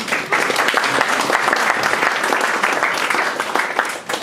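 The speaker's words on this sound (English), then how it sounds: "I would like us to applaud each and every one of them for coming and spending some of their time with us" An audience at an election debate applauding the politicians on stage, with dense, sustained clapping from a large crowd that stays loud and even throughout.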